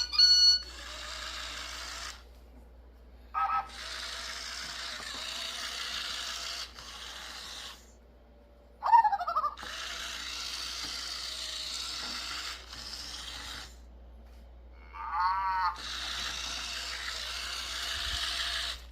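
A Zhu Zhu Pets City hamster toy zooms along, its motor whirring in several bursts separated by short pauses, with brief chirpy electronic squeaks and warbles between runs.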